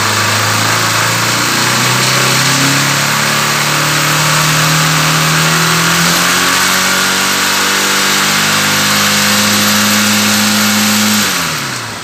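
A Honda CG 150 Titan motorcycle engine revs up and holds a high, steady whine for several seconds, then drops off sharply at the end; loud and close.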